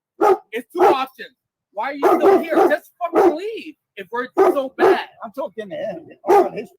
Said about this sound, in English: Tony has a dog with him. As you can hear it barking.